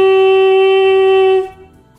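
A saxophone mouthpiece played on its own with the tongue held too low gives one steady, buzzy sustained note with strong overtones for about a second and a half, then cuts off into quiet.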